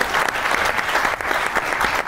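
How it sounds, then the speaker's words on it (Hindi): Studio audience at an Eid special comedy talk show breaks into steady, dense applause, loud and sustained throughout with no voices over it. "इस पर एक दफ़ा फिर बहुत सी ताली होनी चाहिए।"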